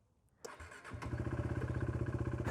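A KTM RC390 single-cylinder race bike fires up after a sharp click, then settles into a steady, pulsing idle with clear rhythmic thumps, close and moderately loud.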